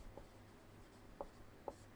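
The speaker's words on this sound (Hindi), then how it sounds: "तो हम लोग यहाँ लिखेंगे" Chalk or marker writing on a classroom board during a physics lecture on electrostatics, heard as a few faint, brief scratchy strokes against a quiet room hum, with no talking.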